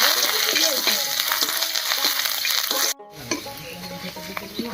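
Whole fennel seeds, cumin, bay leaves and dried red chilies spit and sizzle in hot oil in a pan, a steady loud frying hiss with small crackles and utensil scrapes, briefly cutting out near the middle before resuming.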